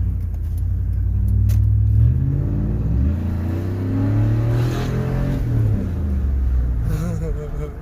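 A 1999-2006 Chevy 5.3 V8 Suburban with a muffler delete revs repeatedly, deep rumbling exhaust rising and falling close by, with a person talking over it.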